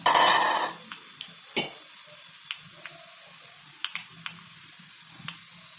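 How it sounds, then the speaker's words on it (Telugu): Turmeric added to a hot oil tempering for tomato toor dal, a loud initial sizzling burst that fades to a soft hiss with scattered spoon clicks and stirring taps. "ఇప్పుడు తాలింపులో కొద్దిగా పసుపుగా కలిపినాము"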